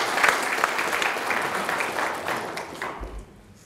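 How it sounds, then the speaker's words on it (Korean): Applause from a crowd at a provincial governor's community visit in Seosan, steady broadband clapping that fades toward the end. "큰 박수 한번 좀 부탁드립니다"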